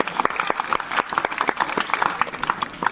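Loud, dense clapping from a crowd of schoolgirls at a school sports competition, sustained and rippling throughout without a break.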